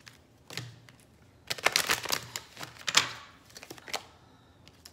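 Tarot cards are shuffled and drawn by hand during a reading, with quick papery flicks and a dense riffling flurry in the middle, close and fairly crisp.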